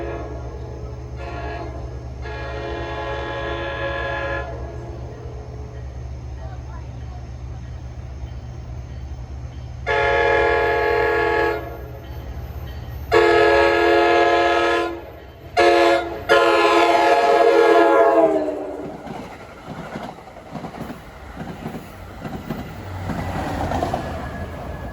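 An NJ Transit train runs through Ramsey station without stopping during the evening rush, approaching with a steady rumble and repeated loud horn blasts before the horn cuts off and the rolling rumble fades, nearby and alone.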